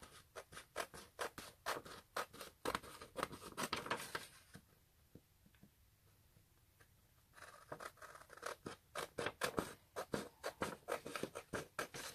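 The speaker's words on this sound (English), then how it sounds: "then we've just got to cut round this" Scissors snip around an old book page in a run of quick, close, crisp cuts that pause briefly midway, then resume in a steady rapid rhythm.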